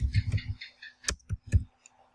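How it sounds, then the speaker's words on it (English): Short bursts of computer keyboard typing as a linking word is entered in CmapTools concept-mapping software, heard as a quick cluster of light clicks followed by several separate taps, close and quiet with no voices. "typing the linking word."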